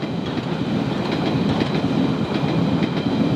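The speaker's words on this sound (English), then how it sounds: "This is locomotive L11, and it's a hybrid experiment of 2 trains stuck back to back." The yellow 1964 tube shunting locomotive L11 at Epping, built from two trains joined back to back, rumbles past with steady rail noise and a faint rhythmic clatter, loud and close throughout.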